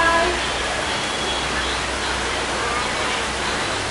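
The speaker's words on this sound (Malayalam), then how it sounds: "മഴ പെയ്യാൻ തുടങ്ങി മഴ പെയ്യാൻ തുടങ്ങി" Steady broadband hiss of rain beginning to fall outdoors during Onam festivities, a continuous even wash with no pauses and no clear voices over it.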